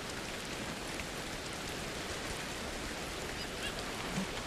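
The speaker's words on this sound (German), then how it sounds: "Ach so, es fängt an zu regnen." Rain falls in the video game Ancestors: The Humankind Odyssey, a dense, even hiss of downpour that holds steady and fairly loud throughout without any speech.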